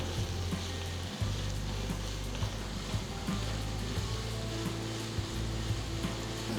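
Two medium onions, finely chopped, fry in oil with whole spices, a steady sizzle under a low hum, close and alone with occasional small knocks.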